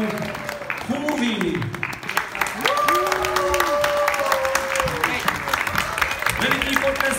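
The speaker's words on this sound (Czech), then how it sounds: "Veliký potlesk pro představitele Písmivce." Audience applause with cheering voices fills a children's stage performance of the Sleeping Beauty fairy tale, steady and loud throughout as the cast is called out for bows.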